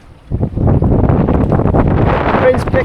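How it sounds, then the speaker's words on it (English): Strong wind buffets a small sea-fishing boat at sea, roaring continuously and loudly across the microphone after a brief quieter start, with faint speech-like sounds mixed into the gusts. "This wind's picking up a little bit."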